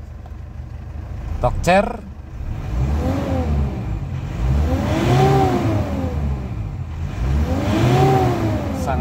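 A 2011 Mitsubishi Strada Triton Exceed automatic 4x4 with a common-rail diesel engine cranks and starts, then revs up and falls back in three rising and falling sweeps, with a voice talking over it.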